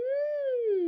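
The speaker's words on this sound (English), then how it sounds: "I see singers who will actually hum into the straw" A singer hums into a singing straw with the air escaping through the nose, producing a smooth, nasal hummed tone that rises slightly and then slides down over less than a second, close and alone.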